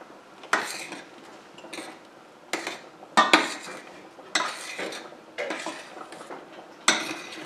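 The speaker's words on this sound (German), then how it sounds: "Jetzt wird er noch einmal umgerührt." Metal spoon scraping and clanking against a cooking pot of boiling rice, in repeated short bursts of stirring with brief pauses, close and fairly loud, no talk.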